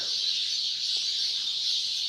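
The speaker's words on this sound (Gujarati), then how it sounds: "અને સુંદર મજાના પક્ષીઓ કલરવ કરે છે" Constant, shrill twittering of many birds at dawn at Nilkanth Dham blends into one bright wash of sound, with a faint low thump partway through.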